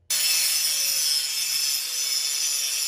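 A grinder steadily grinding down a weld on the metal of a Cat 1 three-point ripper and weight holder, a continuous loud abrasive whine lasting the whole clip without talk.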